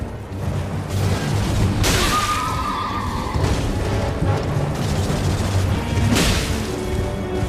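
A horse neighs loudly amid a mounted boss fight in Elden Ring, whinnies rising over booming impacts and rumbling combat noise, with a second sharp burst near the end.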